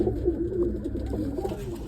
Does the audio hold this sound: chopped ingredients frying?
no